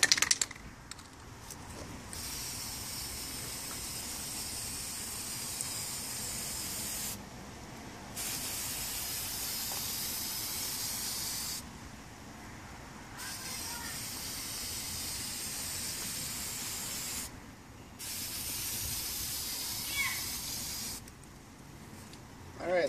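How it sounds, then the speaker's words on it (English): Aerosol frost spray can misting model building window panes from about a foot away, heard as several steady hissing bursts, each lasting a few seconds, separated by short pauses. "you're just going to hold the can about 10 to 12 inches away from the window panes on the back of the walls, and you're just going to give it a nice even spray"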